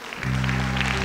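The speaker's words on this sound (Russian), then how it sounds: "Щедрые на аплодисменты." A crowd at an annual report concert claps steadily for a brief moment, the applause sitting over a sustained low musical drone from the hall's sound system.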